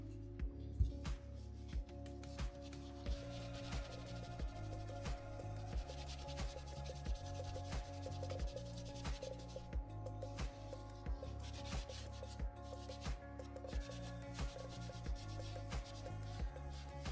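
Steady, continuous rubbing as polish is worked by hand onto the worn steel blade of a Benchmade 970 folding knife, a close, even scrubbing texture with a regular back-and-forth rhythm throughout.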